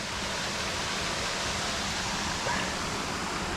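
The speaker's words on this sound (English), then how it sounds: "You know, there's the waterfall." Steady broadband rush of a waterfall in the woods, a continuous even roar that fills the whole clip with no breaks and no talking.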